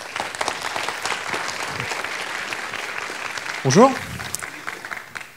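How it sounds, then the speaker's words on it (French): Applause from a conference audience at a talk on code refactoring runs at moderate level, then someone speaks briefly over the fading clapping. "Je vous demande de l'applaudir bien fort."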